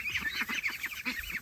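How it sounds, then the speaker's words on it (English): Two ducks recently moved outdoors from a crowded chicken pen give a quick string of honking, nasal calls, close and fairly soft, with overlapping short bursts and no voices. "And that is the last 2 ducks."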